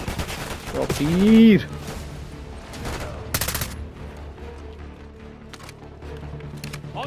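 Rapid bursts of gunfire from the Call of Duty Black Ops 6 campaign crackle through a loud battle scene, with voices talking over the shooting.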